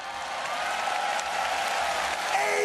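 A stadium crowd at a mixed martial arts event in Japan bursts into sustained, dense applause and cheering for the winner of a fight.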